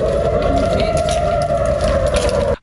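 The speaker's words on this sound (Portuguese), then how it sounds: "Durante a reunião com Netanyahu, os dois tiveram de se abrigar em um bunker por 5 minutos depois de sirenes de ataque aéreo." Air raid sirens in Israel wail as one loud, sustained steady tone that holds unbroken and then cuts off abruptly at the end, with no talk.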